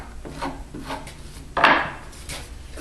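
A Wiebe pelt scraper rasps across a muskrat pelt in a few short, close strokes, with one louder scrape near the end.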